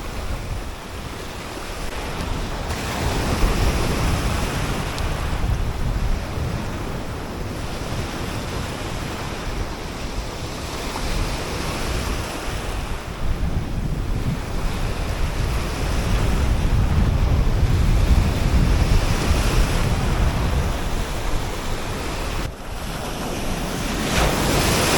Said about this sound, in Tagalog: Nakakatakot ang mga alon dito.